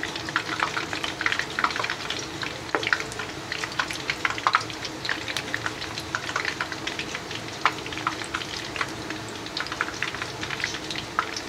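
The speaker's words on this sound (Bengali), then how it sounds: "চলুন তাহলে এখন ইফতারগুলি ভেজে নিই। দেখুন বন্ধুরা, আমি প্যানটা বসিয়ে দিয়েছি, এতে পর্যাপ্ত পরিমাণ রান্না করার তেল দিয়ে দিয়েছি।" Potato chops frying in hot oil for iftar snacks, producing a continuous fine crackling sizzle that sounds like rain, steady and moderately loud, with scattered sharper pops and spatters.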